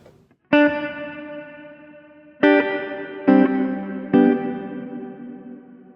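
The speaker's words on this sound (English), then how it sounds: "This reverb block is one that I have assigned to foot switch 1." An electric guitar runs through an ambient reverb block on a Line 6 Helix, playing four sustained chords that each ring out and fade into a long modulated wash, with no talk.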